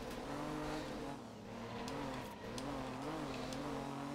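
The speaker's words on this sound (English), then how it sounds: "why is my engine still going?" A rally car engine from the racing game Art of Rally, a group 4 car, holds a steady droning hum with gentle rises and dips in pitch, continuous and fairly close, with no talk over it.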